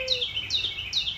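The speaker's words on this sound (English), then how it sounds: "You hear those birds singing?" Outdoors among rose bushes and palm trees, a bird sings three clear, bright chirping phrases in quick succession, loud and close, with no one speaking.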